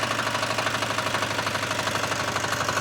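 A Forte 1035-3 walk-behind tractor's small engine runs steadily at high revs, with a rapid, even knocking pulse and a vibrating rattle that stays loud and close throughout, with no voices.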